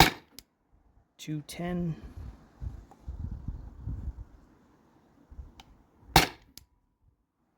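A CO2 air pistol fires a few sharp, distinct cracks spaced a few seconds apart, separated by quiet stretches, with someone speaking briefly between shots.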